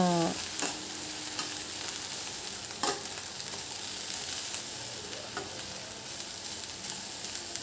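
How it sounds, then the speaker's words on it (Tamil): Ladies finger (okra) is dry-sautéed in a pan without oil, a continuous close sizzle with occasional scraping strokes of a spatula, steady throughout with no voices. "அதுக்காக 10 நிமிஷம் வெறுமனே வதக்கிக்கலாம்"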